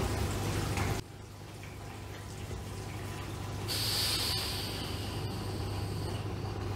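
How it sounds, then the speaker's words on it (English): Air rushes out of an A.R.I. air valve on a water pipeline as a steady hiss that swells into a brighter, louder discharge partway through, over a constant low hum of the running system. "We could hear also the air discharge."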